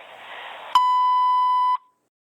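Answering machine beep, a single steady electronic tone lasting about a second, clean and loud right after a faint hiss, then silence.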